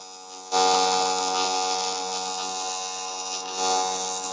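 A welding arc on a machine set to 220 amps, biased down onto a 3/16 plate, starting abruptly and holding a steady, loud electric buzz and hum with a slight swell near the end.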